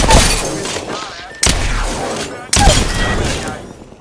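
Gunfire in the battle royale video game Apex Legends: three loud, sharp bursts of shots, each fading into a rattling tail, close and dense with no talk.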